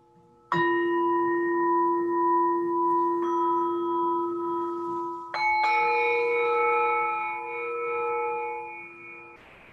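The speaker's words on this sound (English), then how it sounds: "Now let's do it just with the bell sounds." A meditation bell is struck three times during a guided session, each clear, sustained ring layering over the last and resonating steadily at close range with no talking.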